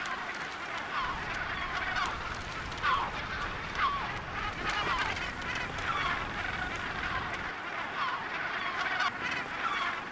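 A seabird colony on Cocos Island in the Pacific, with dense, overlapping honking and squawking calls filling the air continuously, close and loud, with no talking.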